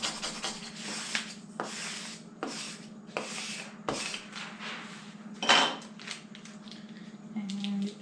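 Rhythmic rubbing strokes as a transfer is burnished onto a wooden farmhouse country sign, about eight distinct scraping passes separated by short pauses, close and fairly quiet.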